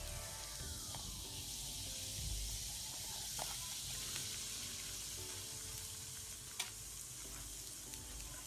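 Curry spooned into hot oil in a pot for curry conch, a steady soft sizzle and hiss with faint stirring clinks and one sharp tap, close and fairly quiet, no voices.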